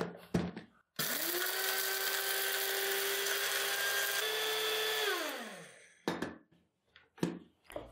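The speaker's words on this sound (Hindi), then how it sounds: "तो अब हम इन मसालों को ऐसे ही ग्राइंड करेंगे।" An electric grinder whirs loudly and steadily for about four seconds while grinding roasted biryani masala spices, then spins down, with short bursts of clatter before and after.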